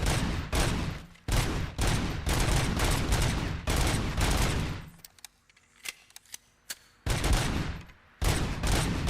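Gunfire in the Robocop Rogue City shooter game, loud bursts of rapid automatic shots with short gaps and a few single cracks near the middle, close and punchy, with no talking.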